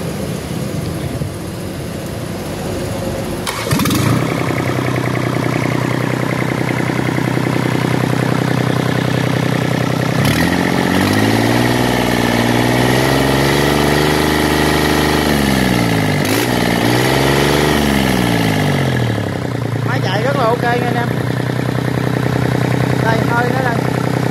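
A Yanmar 3T74 three-cylinder diesel engine, rated 21 hp at 3050 rpm, is cranked and fires up, then runs at a steady, loud, close idle with a few shifts in pitch.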